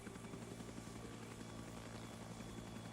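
Chinook helicopter in a flight video game, its rotor chop a steady, even drone held throughout, quiet and constant with no voices over it.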